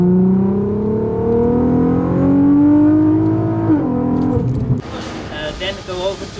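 Tuned VW MK4 R32 with a big turbo and a custom exhaust carrying a single small muffler, revving loudly and steadily up for several seconds before the engine drops off, with a voice talking over the last part.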